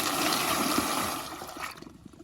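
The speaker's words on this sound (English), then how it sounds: "if that was on a weak flush, that wouldn't have took it. But I do my tests on full pressure." An American Standard Madera flushometer toilet flushes at full pressure, a loud close rush of water that roars for over a second, then tapers into gurgling and trickling as the bowl drains.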